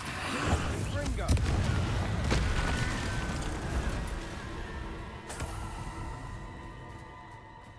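Confringo, the explosive spell from the Hogwarts Legacy video game, bursts in a run of booming blasts and sharp cracks over a dense, roaring wash of game noise, with a voice heard in the mix.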